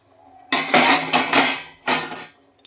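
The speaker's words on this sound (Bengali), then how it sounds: "এবার আমি কড়াইটাকে ঢেকে দেবো" A metal lid being set on a kadai of fish curry, with a couple of close clattering clanks and a brief rattle as it settles, then quiet.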